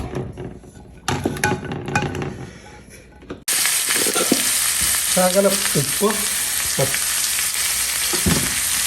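Onion, carrot, cabbage, green chilli and cucumber stir-fried in a pan, starting with a soft sizzle and jumping to a loud, steady frying hiss with scraping stirs, while a person talks over it.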